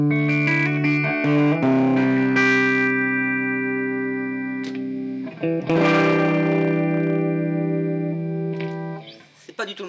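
A heavily distorted high-gain electric guitar through a Fender Deluxe amp holds sustained, buzzing chords, loud and saturated, reverb off, with a short break partway through before ringing out again.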